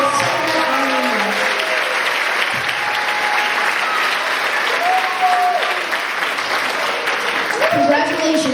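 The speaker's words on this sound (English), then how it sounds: "Let's give them and ourselves one more round of applause" Loud, continuous applause from a graduation ceremony audience at P.S. 11 for Class 504, steady clapping throughout with voices and a few cheers rising over it.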